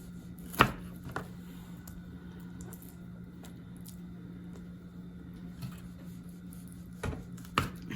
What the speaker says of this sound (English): Get some of this fat cut off here.